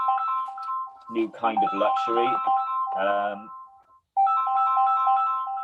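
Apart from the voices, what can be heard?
mobile phone ringtone ringing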